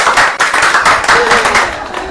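A church congregation claps hands together during a Hindi sermon, a dense, continuous patter of many hands at close range with a preacher's voice mixed in.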